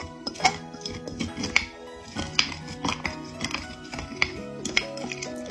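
Stirring a mixture with cold water in a bowl, heard as light, irregular clinks and taps of a utensil against the bowl, spaced about every half second over a quiet background.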